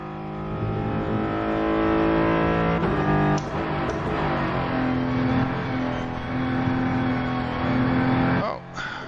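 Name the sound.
race car driving in Rennsport racing video game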